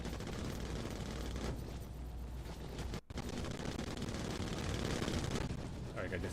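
Nose turret machine gun firing in a vehicle combat video game: dense, continuous rapid fire with rumbling blasts, a brief break at about three seconds, then sustained shooting again, with a voice talking underneath.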